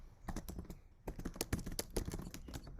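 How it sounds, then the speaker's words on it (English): Computer keyboard typing during an online wellness presentation, a quick irregular run of sharp clicking keystrokes in bursts, fairly faint and alone with no voices. "somebody is typing"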